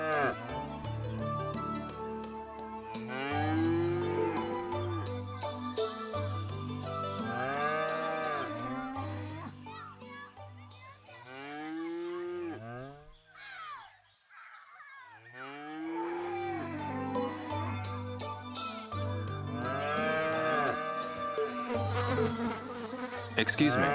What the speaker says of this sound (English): These cow noises.